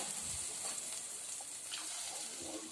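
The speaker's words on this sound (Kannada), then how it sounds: "ನಾಲ್ಕು ಲೋಟ ನೀರು ಹಾಕ್ತಾಯಿದ್ದೀನಿ" Water poured into a pot of rice for egg biryani, heard as a soft, steady splashing gush that runs without a break, fairly faint against the room.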